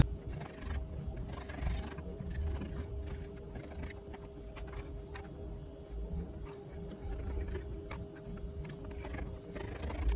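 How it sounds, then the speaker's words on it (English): Scissors cut through fabric for a kaftan dress, a continuous series of crisp snips and scraping slides across a table, close and steady under a faint background hum. "I'm going to grab my scissors now and then I'll cut this out."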